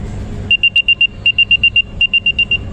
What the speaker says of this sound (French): cliquer sur trouver le traceur pour le faire sonner